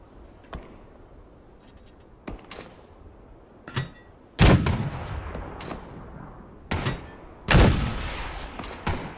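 Heavy artillery blasts in a video game, a series of sharp booming impacts at irregular intervals with the loudest hits near the end, some followed by rumbling decay, no talk over them.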